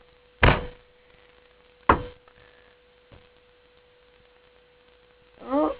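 An air gun fires BBs at an armor target, giving two sharp, loud cracks about a second and a half apart, then a faint third knock and a late rough burst, over a low, quiet hum.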